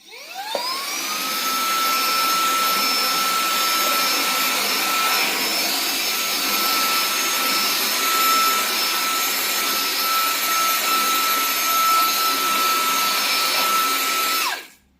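A Rowenta X-Touch AC9736WO handheld vacuum cleaner spins up with a rising whine, runs at a loud, steady high-pitched roar while sucking up gardening soil, then winds down sharply at the end.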